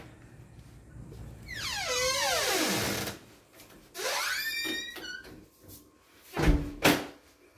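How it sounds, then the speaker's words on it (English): Front door of a vacation rental in St. Augustine opening, with loud creaking, squealing sweeps of the hinge and a heavier thump near the end, heard close with no talk. "here's the door. So let's go inside"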